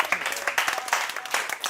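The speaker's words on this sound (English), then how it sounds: "Let's clap for our technology." A group of students on a school excursion gives a brief round of applause, dense overlapping claps at close range lasting under two seconds with no talking over them.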